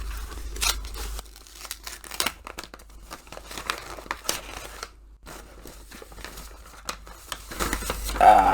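Packaging of a book subscription box being torn open by hand without scissors: intermittent crinkling, tearing and rustling bursts, close and fairly quiet, with short pauses between efforts.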